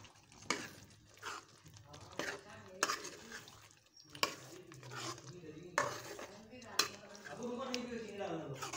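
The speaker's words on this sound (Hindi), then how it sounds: "तो मैं इसको अच्छे से जो है वो मिक्स कर लूंगी" Chicken being stirred and mixed into a paste in a pot, with repeated scraping and clinking strokes of a utensil against the metal, close by, while someone talks over much of it.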